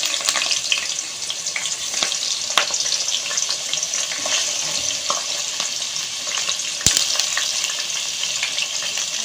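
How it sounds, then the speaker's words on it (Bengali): Cut potatoes fry in hot oil, producing a steady close crackling sizzle with scattered pops and clicks of stirring throughout, no talking. "আলুগুলো ভেজে নেব দিয়ে দিচ্ছি"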